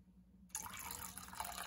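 Water pours from a fish bag into a 5-gallon aquarium, a steady close splash and trickle that starts abruptly after a brief quiet moment and runs on alone.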